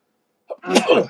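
A single sharp sneeze, close and loud, with a brief intake of breath just before the burst.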